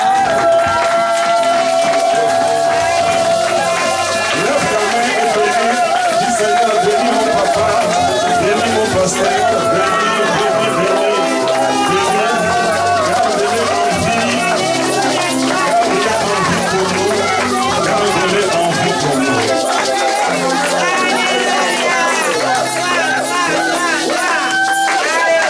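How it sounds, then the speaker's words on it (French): Church congregation cheering and applauding loudly for a pastor and his wife, a dense and sustained wall of clapping and crowd noise with music and voices mixed in throughout. "Nous acclamons très très fort."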